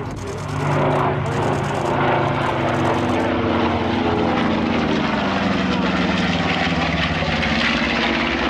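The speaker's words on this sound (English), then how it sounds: "Raimund Riedmann at the controls of the B25." A B-25 Mitchell bomber's twin propeller engines drone steadily and loudly throughout an air display at RIAT, a sustained throbbing roar with shifting tone as the warbird passes, while a commentator talks over it.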